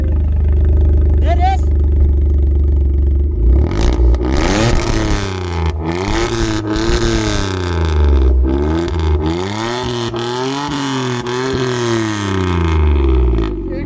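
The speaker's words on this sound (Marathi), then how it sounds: "पहिले तुम्हाला सायलेन्सरचा आवाज ऐकवतो सो आता गाडीचा आवाज ऐका" A loud modified car exhaust revs repeatedly, each rise and fall of the engine note rumbling and popping up close, in a series of throttle blips.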